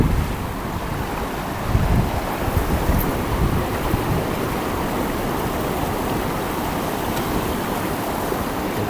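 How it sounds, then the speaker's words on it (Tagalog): Strong floodwater surging over a bridge, a steady, loud rush of churning water with low rumble and wind buffeting the microphone throughout, no voices. "Umapaw po ang isang napakalakas na baha dito sa tulay."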